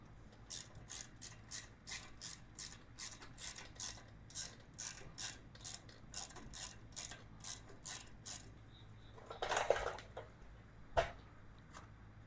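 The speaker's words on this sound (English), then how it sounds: "And I'll take these head nuts off of it." A hand ratchet with a 12 mm socket loosens the exhaust head nuts on a 2023 Lifan KPM 200cc motorcycle, giving a steady close run of crisp clicks, followed by a couple of louder metallic clanks.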